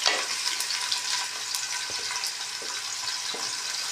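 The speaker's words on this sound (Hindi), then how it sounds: "ये हमने डाली देगची में प्याज" Onions hit hot oil in a cooking pot, giving a loud, steady frying sizzle with some stirring scrapes throughout, close and with no talk.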